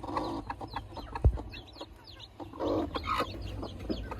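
A hen clucks softly among her freshly hatched chicks, with thin, high peeping scattered throughout and a low, murmuring cluck, all close by; a sharp thump lands near the start.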